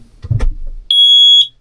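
A smoke alarm gives a single loud, piercing electronic beep of about half a second, after some brief handling noise.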